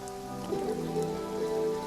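Soft steady patter of a sun shower in the video game Path to Nowhere, a gentle continuous hiss of rain under sustained tonal music, even and unbroken throughout.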